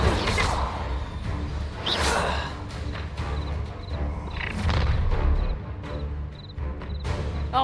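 Incendio fire spell cast in the Hogwarts Legacy video game, a loud whooshing burst with booming impacts and crashing effects layered through a dense, continuous battle soundscape.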